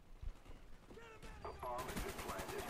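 Bursts of AK-47 gunfire in a Call of Duty: Black Ops multiplayer Demolition match, mixed with game effects and a voice, growing louder and denser toward the end.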